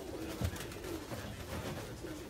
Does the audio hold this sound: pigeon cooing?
yes